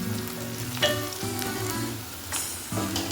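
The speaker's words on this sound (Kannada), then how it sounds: "ಈಗ ನೋಡ್ರಿ ಉಳ್ಳಾಗಡ್ಡೆ ಎಲ್ಲ ಸುಟ್ಟಿದ್ದಾವು." Onions frying and sizzling steadily in a pan of oil for an Uttara Karnataka-style enne badanekayi palya, a continuous close crackle with a few brief stirring clatters and no talk.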